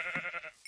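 Minecraft sheep bleating in a quick wavering burst, close and fairly loud, then cut off abruptly.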